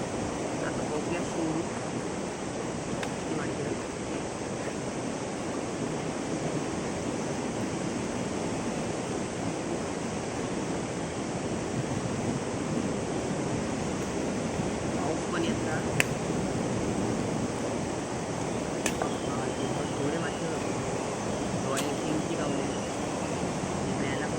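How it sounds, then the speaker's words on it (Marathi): Steady, rushing wind blows outdoors without pause, a broad roaring noise with a few faint clicks scattered through it. "वारो बिरो सुटलो"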